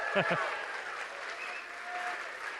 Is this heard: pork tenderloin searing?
no